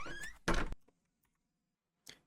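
A door opening in a Unity game, heard as two loud, close thunking clunks in quick succession, then a brief fainter knock after a short silence.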